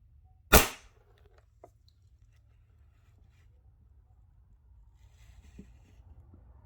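A Schofield airsoft revolver fires a single sharp, loud crack through a chronograph, followed by faint small clicks and handling noises.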